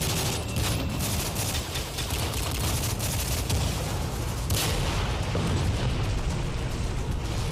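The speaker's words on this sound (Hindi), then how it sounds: "हमने मिलिटेंट्स के कैंप पर हेवी फायरिंग की।" Heavy gunfire on a militant camp from about 100 meters away, heard as a loud, continuous dense barrage of shots and blasts with no pauses, no talking.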